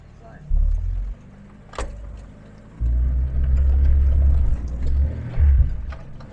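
A car crawls over a rough, broken road stretch near an abandoned mountain village in Dagestan, with heavy low rumbling engine and bumping that swells and drops in uneven bursts, close and loud, with a brief thump partway through.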